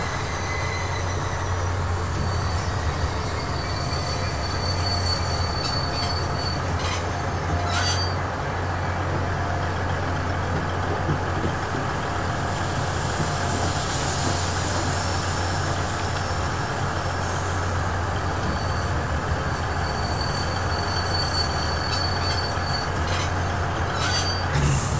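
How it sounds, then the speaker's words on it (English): Train rolling into town in the video game Worms Ultimate Mayhem, a continuous loud rumble of wheels on rails with a low engine drone and faint high squeals, steady throughout with no speech. "The train is pulling into town."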